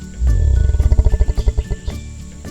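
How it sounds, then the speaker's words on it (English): A jaguar roars in a loud, close series of rapid, rhythmic grunting pulses that rise and then fade over about two seconds. "J. Jaguar."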